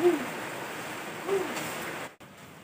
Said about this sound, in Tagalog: Sarap po maligo ngayon sa ulan.